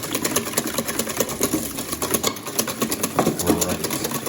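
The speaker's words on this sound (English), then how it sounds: "Give that a good old whisk. Just breaking up the eggs and sugar." Eggs and sugar are whisked briskly in a pot, giving a fast, rhythmic metallic clatter and scrape that carries on without pause, close and fairly loud.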